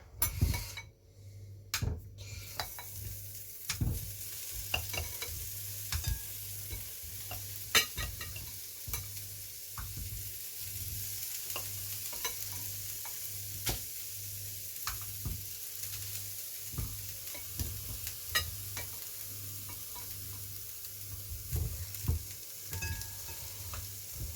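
Frozen value vegetables fry in a lightly oiled pan with a constant sizzle, while a utensil scrapes and taps against the metal in an irregular stirring rhythm.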